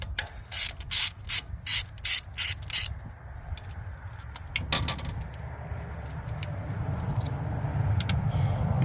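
Rapid bursts of a ratchet with a 10 mm socket loosening a bolt on a 2018 Toyota RAV4 during spark plug work, about seven quick clicking runs up close, then quieter handling noises and low background hum.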